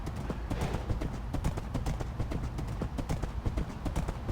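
Horse hooves clip-clop along a road in Minecraft, a quick, steady stream of close hoof clicks that keeps going without a break.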